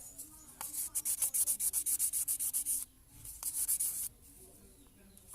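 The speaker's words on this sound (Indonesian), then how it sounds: "Di sini kita coba menggunakan amplas ini saja" Quick, rhythmic back-and-forth strokes of sandpaper finishing a small hard part of a 1972 Alba watch, a fast run of about a dozen strokes, a pause, then another short burst.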